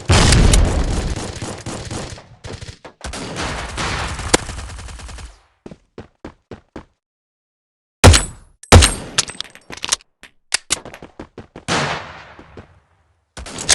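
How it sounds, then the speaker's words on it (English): Gunfire and grenade blasts from the mobile shooter game Forward Assault: dense rapid bursts of shots, then scattered single cracks and sharp booming explosions with short silences between them. "Throwing a grenade!"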